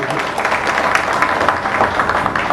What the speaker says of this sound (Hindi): जोरदार ताली बजा दीजिए भाई